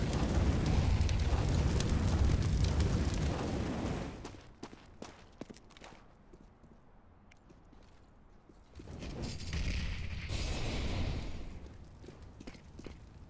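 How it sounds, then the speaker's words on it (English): A grenade blast in a first-person shooter game: a loud, broadband roar lasting about four seconds, then quieter scattered clicks and steps, followed by a second burst of rushing noise. "Grenade out. Throwing a grenade."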